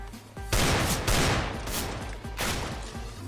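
Desert Eagle pistol fired in a first-person shooter game on a dark headshot-skill map: several loud, sharp shots with ringing tails, a pair close together then a spaced third, heard alone without talk.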